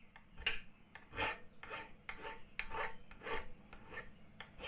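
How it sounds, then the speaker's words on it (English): A hand file rasps a burr off the drilled hole of a metal cylinder mount for a tube bender, eight or so quick scraping strokes in a ragged rhythm, close by and fairly quiet, with no voices. "So I'm just going to file this burr off."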